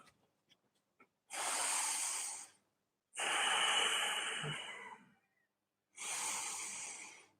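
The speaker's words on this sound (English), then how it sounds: "Breathing into the belly, really sending the belly out." Three slow, deep yogic belly breaths, each a long airy inhale or exhale lasting about two seconds, close and soft, separated by quiet pauses.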